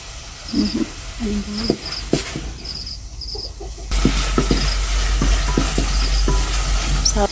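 Tomatoes and onion sizzle in hot cooking oil with occasional stirring scrapes, a steady frying hiss that grows louder and fuller partway through, with a bird calling faintly in the background.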